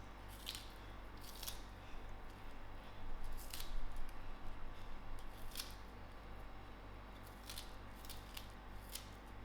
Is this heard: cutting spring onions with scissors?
yes